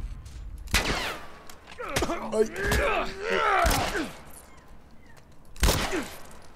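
Several sharp gunshots from the video game The Last of Us crack out at intervals, with voices groaning and talking between the bursts.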